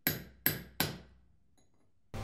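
A cheap five-dollar hammer striking hard, three loud ringing blows in quick succession, each decaying, then a fourth hit beginning after a pause, during an off-road tyre change.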